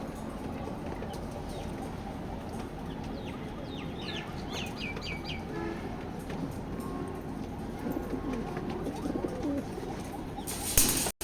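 Pigeons coo and murmur steadily in a racing pigeon loft, a dense layer of soft throaty calls with faint rustling and occasional flutters, ending in a brief louder clatter.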